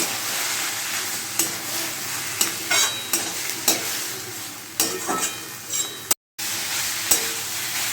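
Banana flower curry sautés in a pan with a splash of water, a steady hiss broken by sharp spatula scrapes and knocks at irregular intervals and one brief cut-out near the end.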